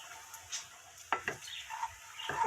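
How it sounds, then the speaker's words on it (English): Flour being stirred into bacon grease in a pan while making bacon gravy, with a faint sizzle, soft scraping strokes and a few light clinks of utensil on pan, quiet and close. "We're going to add some flour to this. Some flour. And give this a little stir."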